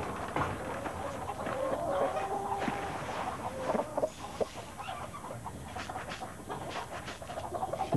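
Grain-fed chickens in Quebec cluck and murmur in a close, irregular series of soft calls, with scattered sharper notes and light background rustling.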